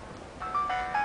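A phone ringtone starts up, short bright melodic tones rising out of a quiet background and repeating as the ringing continues, no voices over it.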